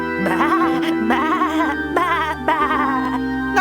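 Cartoonish sheep bleating in the adventure video game Discworld 2, several wavering, harmonic bleats in quick succession, loud and close with no talk over them.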